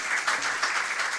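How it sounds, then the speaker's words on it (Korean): An audience at an indoor public forum on walking and health applauds, giving dense, steady clapping from many hands that fills the whole moment evenly, with no speech over it. "모든 분들께 박수 부탁드리겠습니다."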